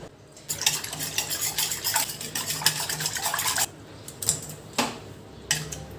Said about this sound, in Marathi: हे सगळं एकजीव करून घ्यायचं आहे व्यवस्थित